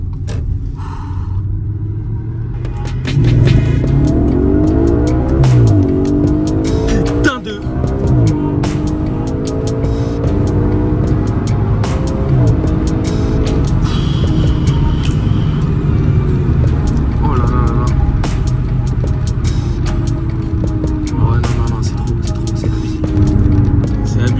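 An Audi RS4 cruising along a road at speed, a steady low engine and road rumble from inside the cabin that continues throughout, with people talking over it.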